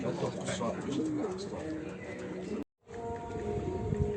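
Racing pigeons cooing softly in low repeated calls at a race, with a murmur of people talking in the background and a brief dropout partway through.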